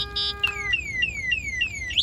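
An anti-theft alarm on a Keso electric bike sounds nearby: a steady electronic beep, then a rapid series of repeating descending chirps, ending with a short high tone.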